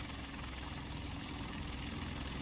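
V-22 Osprey tiltrotor engine in the War Tycoon video game, a continuous low rotor and engine drone with a steady throbbing rumble, heard alone.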